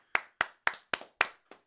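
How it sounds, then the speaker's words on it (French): Six separate, crisp hand claps ring out at an even pace in a quiet room. They are close and distinct, and no talk is heard. "faut s'applaudir"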